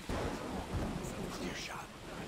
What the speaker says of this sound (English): This is a good-looking storm.